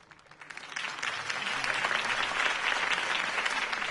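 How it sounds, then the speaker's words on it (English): A crowd in the video game Batman: The Telltale Series breaks into applause that swells quickly from a few claps to steady, dense clapping and holds there. "could have heard that applause"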